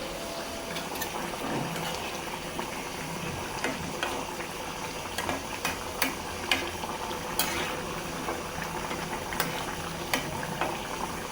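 A meat curry with bones simmers slowly in plenty of broth, giving a steady, close bubbling with scattered small pops and soft clicks throughout.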